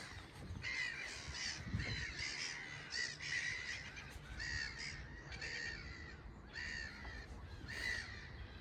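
Crows caw repeatedly outdoors in cold air, a steady series of harsh calls at moderate distance over a low ambient rumble.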